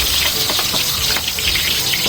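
Milkfish (bangus) frying in hot oil gives a loud, continuous hissing sizzle with crackly pops throughout.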